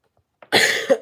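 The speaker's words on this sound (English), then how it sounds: "if you hear me coughing, that's why" A person with a cold gives a single short, sharp cough up close, ending in a brief catch of breath.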